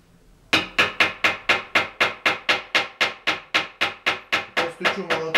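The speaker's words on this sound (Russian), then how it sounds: "Постучу молотком по плинтусу, он не реагирует." A hammer taps a skirting board in a steady series of about sixteen sharp, evenly spaced knocks, each ringing briefly, loud and close with no talk.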